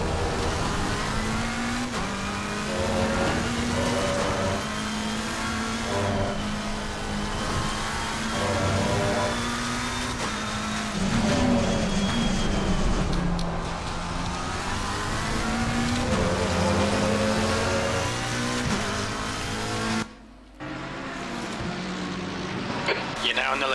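A race car engine in Assetto Corsa Competizione at Kyalami hums and rises through the gears over a long stretch, with tire noise, a brief drop near the end, and faint voices.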